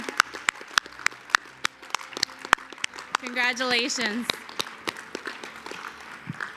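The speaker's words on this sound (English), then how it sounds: "give each other a round of applause right now for being here" Scattered, uneven hand claps ring out at the National Coalition Academy graduation, thin and intermittent rather than a full ovation, with a voice briefly speaking in the middle.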